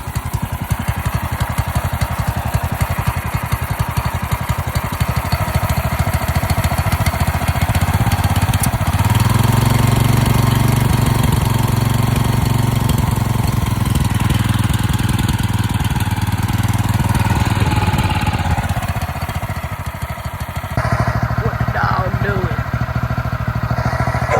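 A small bike engine idles steadily throughout during its break-in, a continuous close rumbling putter that deepens briefly midway, with a voice talking over it.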